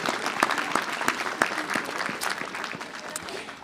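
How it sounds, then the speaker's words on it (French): Audience applause at a mayor's New Year wishes ceremony, a room full of people clapping with sharp individual claps standing out, steady and moderately loud before gradually thinning toward the end. "On peut l'applaudir, mais ça le fera venir"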